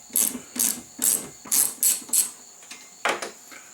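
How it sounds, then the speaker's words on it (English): A ratchet clicks off a 15mm nut on a Pontiac G6 windshield wiper arm in loud, close bursts of rapid pawl clicking, about seven strokes with short pauses between them and no talking. "we'll take the 15mm nut off of both of these wiper arms"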